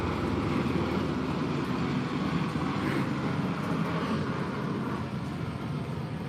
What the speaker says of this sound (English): Seem to be a lot of helicopters in the areas that I spend time in.